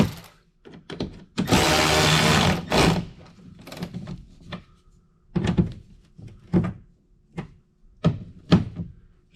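A power tool tightens a mud flap bolt on a dually pickup, with one loud sustained whirring burst of about a second, then a series of short sharp clanks and thunks from handling the bolt and tool.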